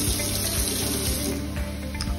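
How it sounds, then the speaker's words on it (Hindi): Water running from a tap into a bottle, a steady close-up hiss and splash that continues throughout with faint background noise. "यही बॉटल में पानी भर लेते हैं"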